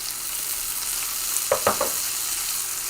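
Tomatoes fry in a hot pan while basil pesto and pesto Calabrese are made, giving a steady close sizzle with a short burst of stirring clatter midway.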